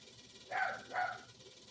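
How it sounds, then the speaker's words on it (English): A dog gives two short, faint barks in quick succession, somewhat distant and indoors, with no one speaking over them. "I think the doggy was calling me."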